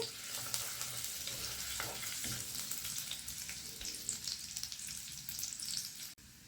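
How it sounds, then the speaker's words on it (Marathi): Garlic sizzles steadily in hot oil in a pan for a fish curry, with scraping stir strokes under the frying hiss, the sound constant and close until it drops out abruptly near the end. "आता आपण ह्याच्यात लसूण टाकून घेऊया लसूण आपल्याला छान खरपूस असा परतवून घ्यायचा आहे"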